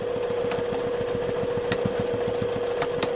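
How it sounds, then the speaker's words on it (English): Sewing machine stitching a zipper onto a crossbody bag, its needle running in a steady, fast rhythmic chatter over a constant motor hum, close and alone without talk. "You can hear the machine."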